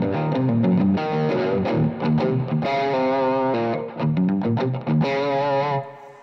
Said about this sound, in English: And now he is using overdrive pedals from the HXFX.